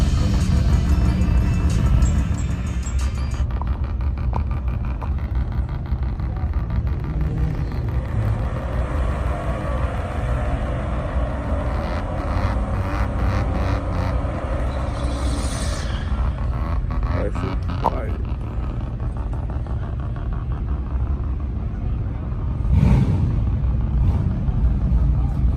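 A 2018 twin-turbo Mustang engine roars and rumbles loudly and steadily at close range for the full stretch, with a sharp rev surge near the end.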